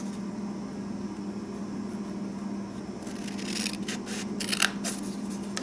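Scissors snipping through paper or card while making a Valentine treat box, a few quick close cuts in the second half above a steady background hum.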